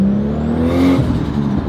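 A Nissan Skyline R33 accelerates hard, its engine note rising and then releasing with a brief fluttering turbo chatter, loud and close throughout the short burst.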